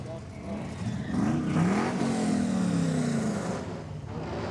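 Holden Commodore race car at a drag strip, engine revving with a rising and falling drone under a commentator's voice, moderately loud and steady for several seconds.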